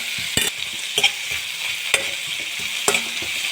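Onions frying with salt in a pan until golden for a South Indian onion chutney, a steady close sizzle broken by a few sharp scrapes and clacks of a spoon stirring.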